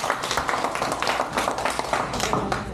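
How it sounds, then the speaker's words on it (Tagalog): Guests at a birthday party clap together, a dense, steady patter of many hands applauding at close range for the whole stretch, with no break and no voices standing out. "Sa lahat ng ating bisita, isang malakas na palakpakan naman siya."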